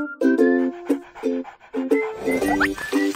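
A cartoon puppy pants in a pet-salon mobile game, giving short, bouncy, tonal pants in a steady rhythm with a light jingling effect near the end.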